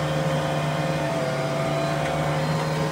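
McCormick X4.100F tractor engine held at raised revs in power automatic mode, a steady, loud, continuous drone heard from the cab without speech.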